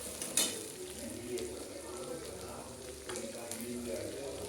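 Onions frying in mustard oil for a Bengali chilli chicken, a steady soft sizzle with occasional stirring scrapes, heard close up and alone.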